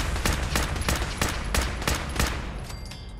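Rapid bursts of automatic gunfire from Fallout 4 gameplay on very hard difficulty, about eight sharp loud shots at a steady rhythm over dense game background noise, no talking.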